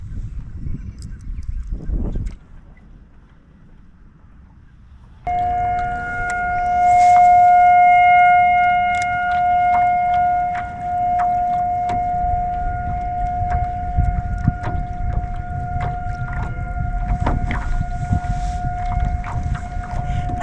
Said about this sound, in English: Tornado siren on a rainy day is the kind of thing that used to freak me out up here